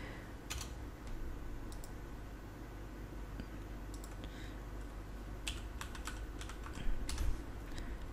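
A verification code being typed on a computer keyboard: quiet, close key clicks in short irregular bursts over a low background hum, with no speech.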